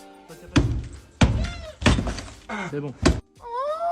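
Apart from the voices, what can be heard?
kitten trapped inside a wall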